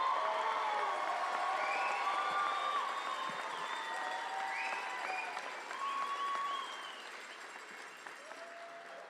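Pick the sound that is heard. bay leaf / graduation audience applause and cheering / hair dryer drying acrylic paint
graduation audience applause and cheering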